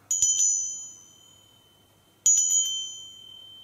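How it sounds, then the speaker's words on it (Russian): A small handheld Tibetan bell is struck twice, each time with a quick cluster of bright rings that fade into a clear, lingering tone. "И тибетский колокольчик"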